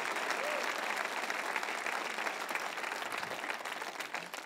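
A church congregation breaks into sustained applause, dense and continuous and filling the room, tapering slightly near the end.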